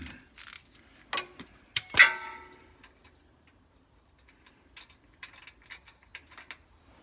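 A 45mm tap is wound back out of a threaded hole in a Foden Fleetmaster's back plate, giving sharp ratcheting clicks and metallic ticks, loud at first and then lighter, irregular clicks close by, with no talk.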